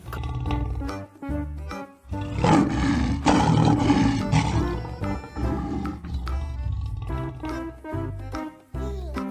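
A toy lion gives a loud, drawn-out electronic roar lasting a few seconds, framed by short tonal jingle-like sounds before and after, heard up close with no talking.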